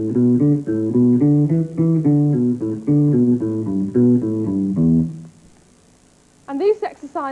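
A guitar runs a blues scale exercise up and down in clear, evenly spaced single notes for about five seconds, then a voice briefly speaks.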